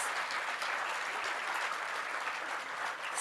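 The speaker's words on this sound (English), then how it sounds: "Our county CEO, Sachi Hamai, and her staff, please give her a big round of applause." A large crowd applauds for the county CEO and her staff at a groundbreaking ceremony for The Grand, with steady, dense clapping that holds at an even level throughout, without speech.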